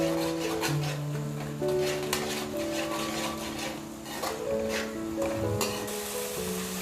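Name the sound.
yogurt boiling in pan for potato dum biryani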